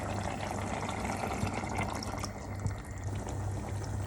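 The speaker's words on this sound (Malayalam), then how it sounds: "ഇനി ഇതൊന്ന് പതുക്കെ ഇളക്കി നമ്മളിവിടെ എടുത്തു വച്ചിരിക്കുന്ന കട്ടിയുള്ള തേങ്ങാപ്പാൽ ഇതിലേക്ക് ചേർത്ത് കൊടുക്കാം" Thick coconut milk pours into a simmering Kerala-style mutton stew with a steady, close liquid splash and gurgle, moderately loud and continuous.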